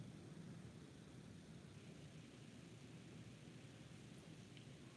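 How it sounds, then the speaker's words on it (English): Steady rain falls outside, a faint, even hiss with low rumbling texture that holds unchanged throughout, distant and with no voices. "do you guys hear the rain?"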